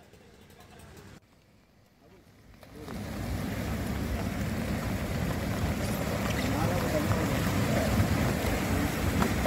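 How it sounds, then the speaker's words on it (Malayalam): Strong wind and heavy surf roar at Neeleswaram south beach in Kasaragod, Kerala, where a boat is being wrecked against coastal rocks; a quieter opening gives way to a loud, steady, broadband rush of wind and waves. "ശക്തമായ തിരയിലും കാറ്റിലും പെട്ട് ബോട്ട് നിശേഷം പാറക്കൂട്ടത്തിലിടിച്ച് തകർന്ന ദൃശ്യങ്ങളാണ് കാണുന്നത്"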